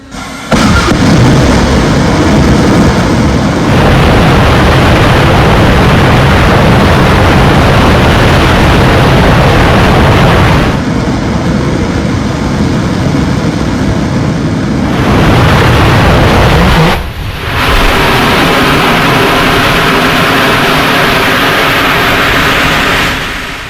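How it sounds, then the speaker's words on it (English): A Relativity Space rocket engine test firing roars loud and close for the whole stretch: a dense, sustained rumble with only a brief dip near the end before it surges back. "I'm pretty sure this is a video of a rocket engine firing"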